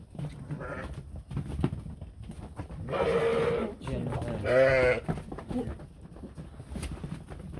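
Several bleats from sheep in a pen, two loud and close around the middle, with people talking nearby and farmyard noise throughout.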